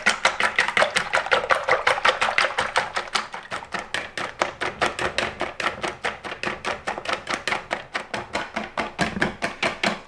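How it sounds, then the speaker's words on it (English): A hand whisk beats egg whites in a bowl for a soufflé, giving a fast, steady run of sharp ticking strokes, several per second, close and clear throughout with no voices. "you want to take a whisk and you want to whisk the eggs"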